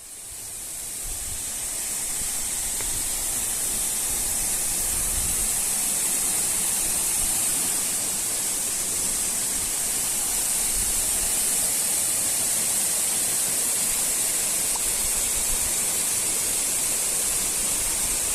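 Dardagna waterfalls on Corno alle Scale give a steady, full roar of rushing water that fills the whole stretch at a constant level, with no voices over it.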